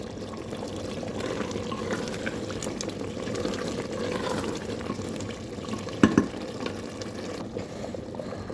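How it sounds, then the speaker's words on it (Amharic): Water being poured into a pot of beans and potatoes cooking with chicken, a soft continuous trickling and bubbling under low room noise, with a couple of sharp clinks near the end. "እንደምትመለከቱት ውሃዬን ጨምሬያለሁ ማለት ነው"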